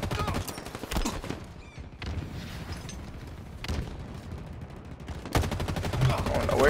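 Pistol shots crack out in Halo Infinite, a handful of sharp, well-spaced reports standing out over busy game ambience and a low background rumble, with a denser burst of fire near the end.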